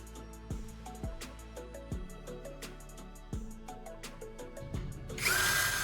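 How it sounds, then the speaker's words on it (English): A power drill with a cone-shaped bit whirs quietly in short, repeated bursts, boring into a plastic laptop charger casing, with pitch dips as it bites, ending in a louder burst of grinding hiss. "I'm taking a drill with a cone-shaped bit and carefully drilling a hole into one end of the charger casing."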